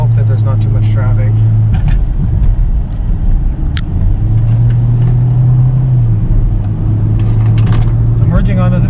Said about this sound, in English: So merging onto the freeway here, honestly the acceleration, if you're willing to let the car rev, it's perfectly fine.